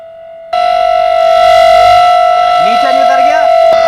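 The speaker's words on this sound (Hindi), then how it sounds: "तो ये सायरन की आवाज सुन रहे हैं आप" A civil defense siren sounds during a trial at ITO in Delhi, a loud steady wailing tone that starts abruptly and holds continuously, with voices talking faintly underneath.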